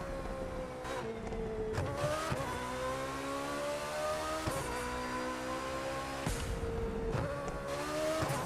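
A racing car engine in the video game The Crew 2 revs up and down through gear changes, with sharp exhaust pops and crackles between pulls.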